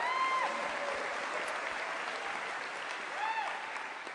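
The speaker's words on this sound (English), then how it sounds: "You may applaud." Audience applause at the Ig Nobel prize ceremony, a steady, dense wash of many hands clapping that holds evenly for about four seconds with no voices over it.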